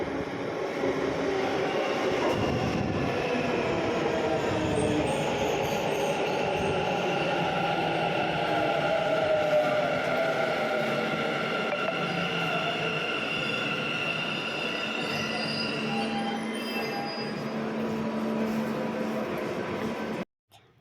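A metro train rumbles steadily along the tracks with a constant loud roar and faint high wheel squeal, continuous throughout and ending abruptly.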